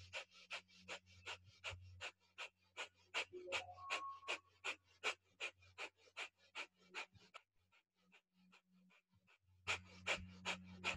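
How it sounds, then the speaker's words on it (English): Rapid rhythmic breath of fire during a Kundalini kriya, with hand movement: a long run of sharp, evenly spaced nasal exhales pumping at about three per second, close and steady, pausing briefly before resuming. "moving the hand and breath of fire"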